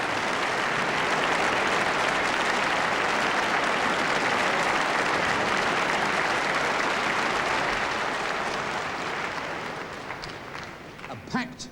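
Loud, sustained applause and cheering from a big crowd packing an indoor gymnasium at a 1981 televised sports championship, a steady roar for about nine seconds that then thins out to scattered claps.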